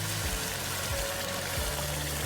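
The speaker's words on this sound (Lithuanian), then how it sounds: "Tai dabar mums reikėtų užpilti vandenį." Water is poured steadily over meat in a pot for Uzbek plov, a continuous close splashing gush with no voices.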